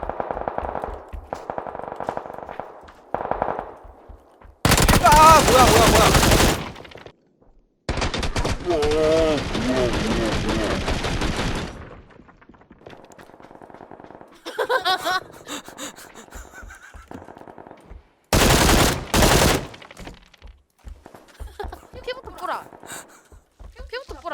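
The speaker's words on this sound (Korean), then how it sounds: "앞쪽에서 이제 총소리 들리네" Bursts of gunfire in the PUBG video game, loud rapid volleys separated by quieter gaps, with players talking and laughing in between.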